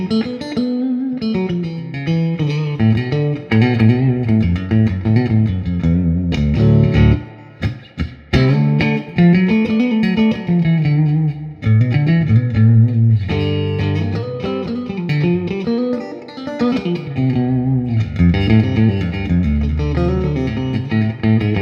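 Clean electric guitar played through a Fender Super Reverb amplifier rewired to 2 ohms, loud chiming chords and single-note lines with amp reverb, continuous phrasing with a brief break midway.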